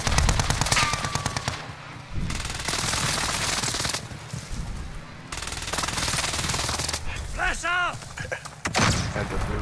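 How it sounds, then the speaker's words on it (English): An enemy precision airstrike in Call of Duty: Modern Warfare, with loud rolling blasts and rapid heavy fire in long roaring bursts separated by short breaks, plus a voice talking in between near the end. "Enemy precision airstrike."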